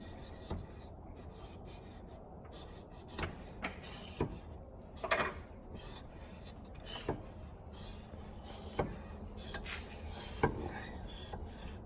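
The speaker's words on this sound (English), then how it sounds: "Got the lapping bar in there." A lapping bar works back and forth inside Ruger American 22-250 rifle scope rings, making soft, steady metallic rubbing strokes up close, with sharper scraping clicks at irregular intervals.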